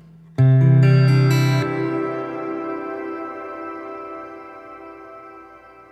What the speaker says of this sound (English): I'm just going to play and cut it off so you can hear that shimmer